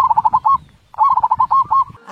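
A voice imitates wheezy, whistling breathing with a quick series of squeaky tonal bursts, a short pause, then another run of squeaks.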